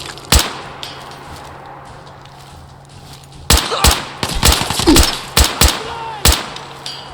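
Gunfire in the video game Fallout 4: loud, sharp shots, one isolated early and then a rapid irregular cluster, over a low steady game ambience.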